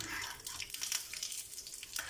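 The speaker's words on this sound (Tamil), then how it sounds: "நம்ம மிளகாய் இஞ்சி நல்லா ஃப்ரை ஆகிடுச்சு" Buttermilk chillies, ginger, mustard seeds and curry leaves frying in oil, giving a steady close sizzle with crackling pops throughout, no talk.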